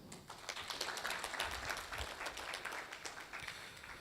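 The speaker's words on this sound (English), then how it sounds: "can you just give them a round of applause?" A conference audience applauds in a steady wash of clapping, with no voices over it, sustained for about four seconds at a moderate level.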